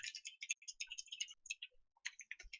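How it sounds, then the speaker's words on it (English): Fast, furious typing on a computer keyboard: dense bursts of crisp, close key clicks with only brief pauses, quiet overall and with no talk. "I can hear your furious typing."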